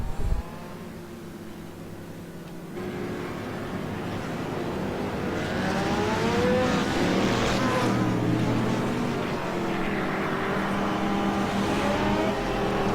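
A race car in a racing game on fresh tires and a light fuel load, its engine droning steadily and rising in pitch as it builds speed after an abrupt start, loud and continuous.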